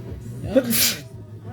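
A single sharp sneeze bursts out midway, loud and close, with people chatting quietly before and after it.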